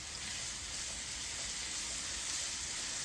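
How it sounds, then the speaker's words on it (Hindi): Minced garlic frying in oil with golden-brown onions, a steady close sizzle and hiss that holds evenly throughout with no talking. "इस लहसुन को बहुत अच्छी तरह से फ्राई करना है"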